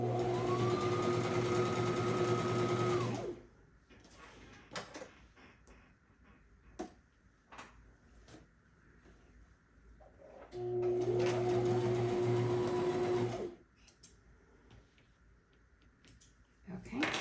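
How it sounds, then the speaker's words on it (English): A sewing machine stitches fabric pieces for a scrappy rainbow quilt block in two loud steady whirring bursts of about three seconds each. Quiet handling clicks and rustles fill the pause between them. "I'm gonna sew right along this line."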